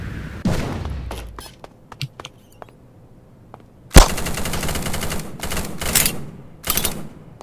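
Gunfire rings out in a battle royale video game: a loud crack, a few scattered single shots, then sustained rapid bursts of automatic fire in the second half, close and punchy with no talk over it.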